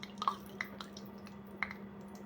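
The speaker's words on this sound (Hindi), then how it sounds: "इसका पानी टपका वहां पर।" Water dripping from soaked moong dal bhallas, lentil fritters for dahi bhalle; a few faint, scattered drops over a steady low hum in a quiet kitchen.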